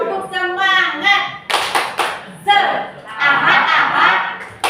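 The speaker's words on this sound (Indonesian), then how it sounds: "Gini saya contohkan. Tepuk semangat." A classroom group does a rhythmic 'tepuk semangat' clapping routine: bursts of sharp, close hand claps in patterned sets alternate with chanted and spoken voices, including children's, and some light laughter.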